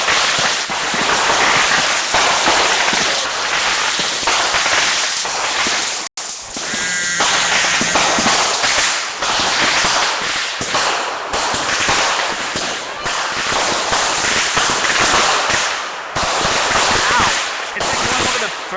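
A backyard fireworks display crackles and bangs almost continuously, loud and close, with rapid firecracker-like bursts piling over one another and voices audible beneath the barrage.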